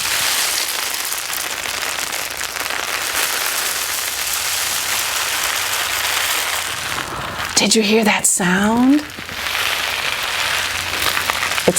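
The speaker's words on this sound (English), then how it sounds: "It sounds like the rain at your window on a rainy day." A homemade DIY rain stick shaken and tipped, giving a steady close pattering hiss like rain on a window, broken near the end by a short pause and a voice speaking over a brief sung note.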